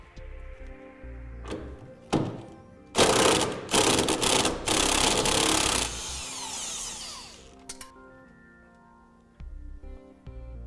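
Nut being worked off an emergency brake cable bracket on the frame rail of a 2004 Ford F-350 Super Duty, heard as close, loud bursts of power-tool whirring and rattling with clunks between them, fading to quieter tool noise.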